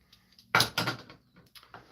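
A small drawer on a redwood bandsaw box, cut from fence post, slides open and shuts: two quick wooden scrapes and knocks close together, then a softer third slide, close by and with no talk.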